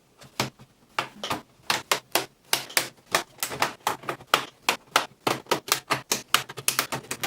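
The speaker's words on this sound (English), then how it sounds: "get the edge of my credit card and get it in the crack between the palm rest and the bezel here" A credit card pried along the seam of a Dell 17R N7110 laptop palm rest, producing a rapid run of sharp plastic clicks and snaps as the clips pop loose, close and crisp.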